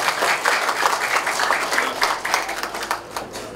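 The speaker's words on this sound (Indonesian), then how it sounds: "Tepuk tangan yang mulia." An audience at the soft opening of a street-vendor area on Jalan Sudirman claps for the mayor, a close burst of uneven, rapid clapping that lasts a few seconds.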